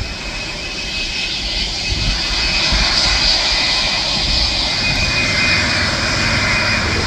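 A National Air Cargo aircraft lands at Cherry Capital Airport in Traverse City, Michigan, its engines producing a steady, loud roar with a high whine running through all seven seconds, close by and without any voices.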